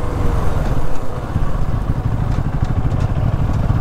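A motorcycle engine running steadily on a newly laid road, a loud, rough, close mid-pitched rumble with some clatter and no talking.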